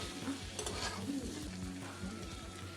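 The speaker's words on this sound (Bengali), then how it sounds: "মশলার সঙ্গে ঢ্যাঁড়স পেঁয়াজটা নেড়ে দেবো।" Fried okra and onion being stirred into masala in a pan over lowered gas, a quiet steady sizzle with gentle scraping from the stirring.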